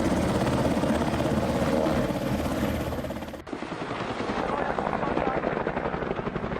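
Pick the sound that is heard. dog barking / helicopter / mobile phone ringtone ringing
helicopter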